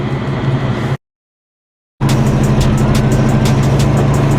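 A 1984 Chevy Caprice box body drives along a road, giving steady engine rumble and road noise that stops abruptly for about a second and then resumes just as loud and constant.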